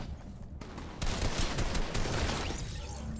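Rifle gunfire in Fortnite, a dense burst of rapid shots that starts abruptly and runs loud and close for about two seconds before trailing off into quieter game ambience.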